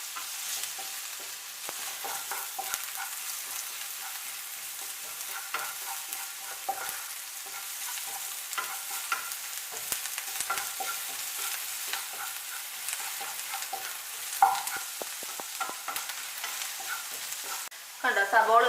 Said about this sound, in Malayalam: നമുക്കൊന്ന് ഇതൊന്ന് ഇളക്കി കൊടുത്തോണ്ടിരിക്കാം.